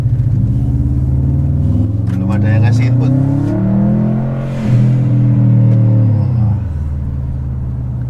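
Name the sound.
Subaru Forester engine revving with aftermarket exhaust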